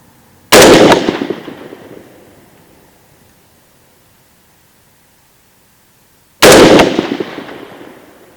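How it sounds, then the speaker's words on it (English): Two loud rifle shots fired at a target during a SIG Sauer Buckmasters scope drop test, each a sharp crack with a long decaying echo, spaced about six seconds apart with quiet between. "I'm going to shoot again at the center and see where our grouping is."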